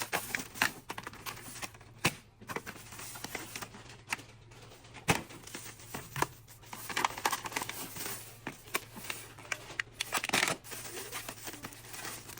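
A plastic bag of food bank groceries being unpacked, with close, irregular crinkling and rustling and scattered sharp crackles throughout.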